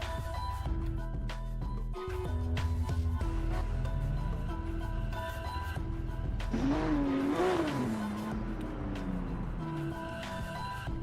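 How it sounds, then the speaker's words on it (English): Drift cars at a Long Beach drift competition, a Toyota Supra and a JZX, rev their engines loudly at the start line, with rising and falling revs and bursts of throttle over a continuous engine roar. "Drivers are ready, revving their engine."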